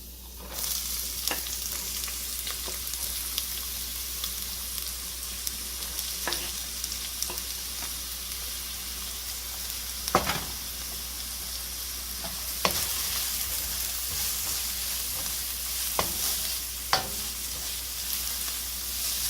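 Garlic and onion fry in hot oil for a meat-filled bread, a steady close sizzle with occasional stirring scrapes and clinks of the utensil, no talking.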